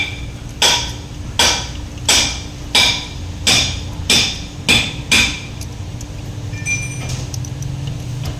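Eight metal hammer blows ring out at a steady rhythm, about one every 0.7 seconds, while removing the water pump on a 2015 Chevrolet Trailblazer, close and sharp in a workshop with a faint background hum.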